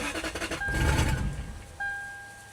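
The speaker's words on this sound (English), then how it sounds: "I can hear the fuel pump priming." A low mechanical whir and rumble with a steady tonal hum rising briefly as the fuel pump of a Lexus LS400 abandoned for 10 years primes, fairly faint and close.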